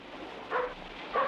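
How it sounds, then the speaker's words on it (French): A dog barks twice indoors in a 1937 thriller scene, two short yips spaced about half a second apart, moderately close against a quiet hum, with no talking. "C'est votre chien? Eh oui, pourquoi? Qu'est-ce qu'il a aboyé?"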